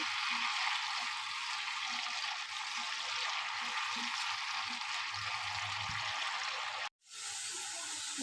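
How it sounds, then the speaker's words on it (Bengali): Potatoes frying in a pan for aloo posto, a soft continuous sizzle with occasional low clatters, fairly quiet, briefly cutting out near the end. "আলুটা ভালো করে ভেজে নেব"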